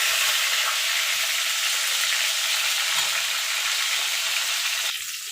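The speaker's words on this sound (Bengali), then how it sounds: "পটলগুলোকে লাল লাল করে ভেজে নেব।" Pointed gourd pieces sizzle in hot oil with a steady, dense frying hiss, close and even, with a small clatter near the end.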